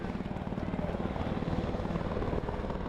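A helicopter drones overhead with a steady, low rotor thrum and engine rumble, holding fairly constant throughout.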